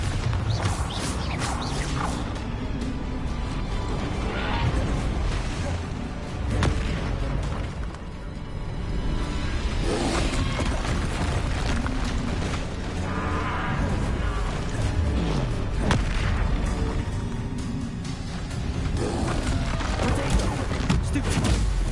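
Spell combat in Hogwarts Legacy with repeated Bombarda blasts, dense booms, crashes and whooshes in a loud, continuous fight that rises and falls in bursts, with voices shouting over it.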